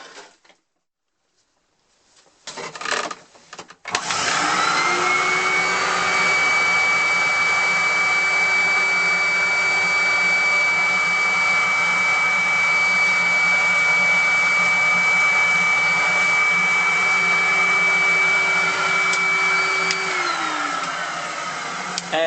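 A shop vacuum in a micro workshop switches on after a few short bursts and runs as a steady, loud whining drone for about fifteen seconds before winding down, collecting sawdust into a sturdy bucket.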